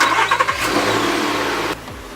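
A Nissan Xterra engine cranks and starts up close during brake pad work, a short starter whir catching into a loud, steady idle before dropping slightly lower.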